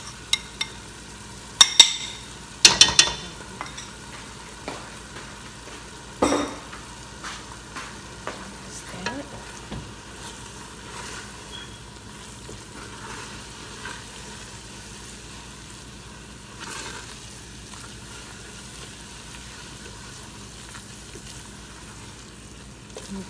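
Berbere spice is stirred into chicken frying for Ethiopian doro wot stew. A steady soft sizzle continues throughout, broken at the start by a few sharp clinks and scrapes of a spoon against the pot and occasional quieter stirring knocks later on.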